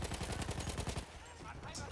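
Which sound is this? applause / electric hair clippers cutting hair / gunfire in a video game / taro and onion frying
gunfire in a video game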